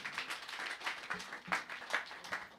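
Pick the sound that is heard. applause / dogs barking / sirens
applause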